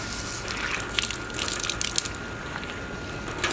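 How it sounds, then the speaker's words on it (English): Water from a garden hose gushing into swimming pool water tubes during pool closing, a close, steady splashing rush with small bubbling bursts. "you're just going to fill these with a hose as such."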